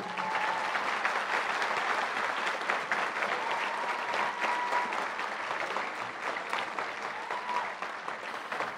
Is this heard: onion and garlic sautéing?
no